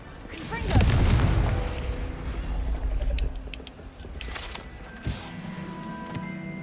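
A blasting Confringo spell in Hogwarts Legacy lands as a deep boom with a rumbling tail, followed by scattered clicks and a second sharper impact, with game sounds around it.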